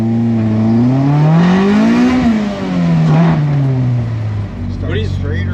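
A Honda CRX with a B18 engine revs up on a test run, its note climbing, easing off, then rising and falling again before dropping to a lower idle-like tone, loud and close.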